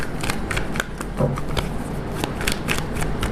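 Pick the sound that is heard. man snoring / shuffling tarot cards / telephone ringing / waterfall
shuffling tarot cards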